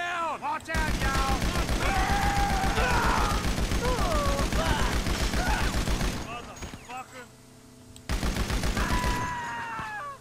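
Rapid automatic gunfire in GTA 5 Online, sustained loud bursts with a short gap before another volley, while a player talks over the shooting.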